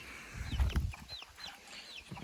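Backyard chickens clucking with a few soft chirps, quiet and somewhat distant, over low rustling and handling noise with no talking.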